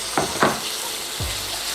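Minced garlic hits caramelized onion in a pan for a bacon cheeseburger, with a steady sizzle and a few quick scraping stirs, no one speaking.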